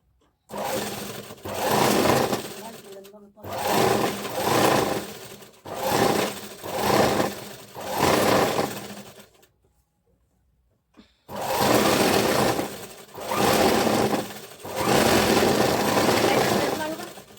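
A motor-driven sewing machine stitches a blouse in long loud whirring bursts of about two to three seconds each, separated by short pauses and one longer stop in the middle, with speech mixed in.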